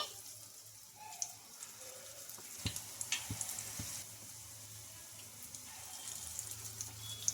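Idli rava bondas frying in hot oil make a faint, steady sizzle and crackle with a few soft clicks and knocks from the pan.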